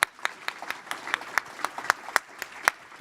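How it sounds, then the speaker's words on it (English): A conference audience at a sustainability workforce panel gives sparse applause, a dozen or so distinct claps in an uneven rhythm, fairly quiet and thin for about three seconds. "Let's give these ladies a round of applause"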